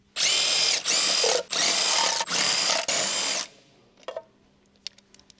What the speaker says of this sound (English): here we have the 18mm socket and extension mounted on the impact to finish